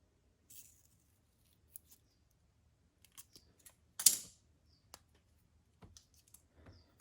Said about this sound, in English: we're going to cut this in half with our scissors